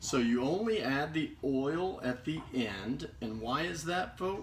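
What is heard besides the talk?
None of the usual background noises is heard.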